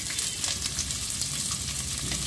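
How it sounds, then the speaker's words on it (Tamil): Onions sizzle steadily in hot oil with cinnamon, cloves, cardamom and bay leaf, a soft continuous crackle throughout, with no speech. "எண்ணெய் சூடாகட்டும். அதில் பட்டை, கிராம்பு, ஏலக்காய், பிரிஞ்சி இலை எல்லாம் போட்டோம். அடுத்து ஒரு 150 பெரிய வெங்காயம்."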